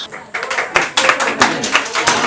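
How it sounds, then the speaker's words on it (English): Children's art workshop audience clapping for young artists, a lively burst of hand claps in uneven rhythm, fairly close and moderately loud, without talk over it. "let's hear your most spirited applause for our little artists"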